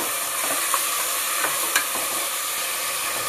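Tomatoes fry in a hot pan, giving a loud, unbroken hiss of sizzling close up, with a few faint taps from stirring and no voices.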